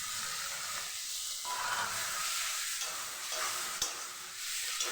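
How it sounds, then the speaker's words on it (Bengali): Ground garlic and ginger paste sizzles and hisses steadily in hot oil with spices, a continuous close frying crackle broken by the scrape of stirring, no voices. "মশলাটাকে বেশ 2 থেকে 3 মিনিট মতো কষিয়ে নেব"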